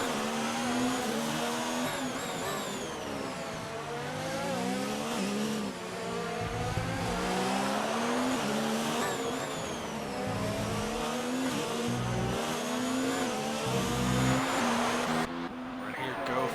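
Sim-racing cars at the Singapore circuit scream past in a dense, continuous chorus of high engine whines that rise and fall through gear changes, with a commentator talking over the racket.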